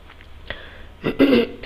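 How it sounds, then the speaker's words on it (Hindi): A man with a dry cough gives a couple of short, harsh throat-clearing coughs close to the microphone, breaking up a quiet indoor lecture on computer awareness. "सूखी खांसी की वजह से प्रॉब्लम है"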